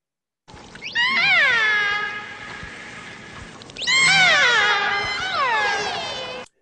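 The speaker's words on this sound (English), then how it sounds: "listen for the meow sound of a Biggs transient orca." Two long, wavering harmonic calls of a Bigg's transient orca, each rising then sliding down like a drawn-out meow, with a short gap between them and nothing else audible.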